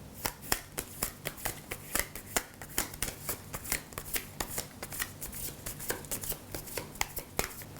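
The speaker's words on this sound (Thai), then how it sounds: "เริ่มแ รกนะครับเราก็จะมา สับไพ่กันก่อน" A deck of tarot cards is shuffled repeatedly by hand, giving a rapid run of crisp riffling snaps and slaps in a steady rhythm, close to the listener, with no talking.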